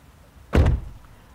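A car door gives a single short thunk-like clunk near the microphone, a quick muffled impact against quiet background hiss.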